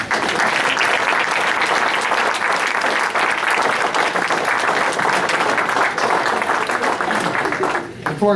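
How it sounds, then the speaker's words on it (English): A seated audience gives sustained applause for minigrant recipients at a community fundraising event in Davis, dense steady clapping filling the room for about eight seconds before tapering at the end. "I'd like to give everybody, all our recipients, a round of applause"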